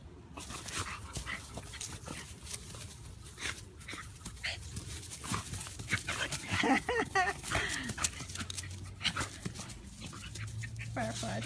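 Two dogs playing together at home, a large one and a smaller one, with panting, yips, whimpers and scuffling throughout, while a person talks and encourages them over the commotion.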